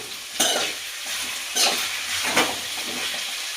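Vegetables and capsicum fry in oil for fried rice, a steady sizzle broken by three sharp scrapes of stirring, close and clear, with no talk.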